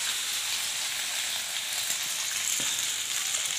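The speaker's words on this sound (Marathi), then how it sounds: "हे नूडल्स तळून घेऊ त्यासोबत खायला आपल्याला." Noodles fry in hot oil for a triple rice recipe, a continuous close sizzling hiss with a faint scrape or stir partway through.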